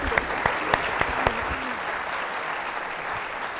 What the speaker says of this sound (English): let's make sure we give them a hand on that.